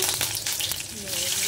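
Three slit green chillies hit hot mustard oil with nigella seeds in a kadai, giving a brief close crackle and sizzle, with a faint voice behind it.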